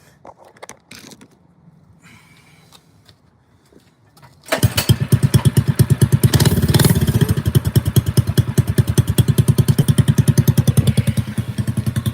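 A 212 cc mini bike engine fires up after a pull start with a rough handling rattle, then settles into a loud, fast, evenly chugging run, up close, with a brief rev in the middle.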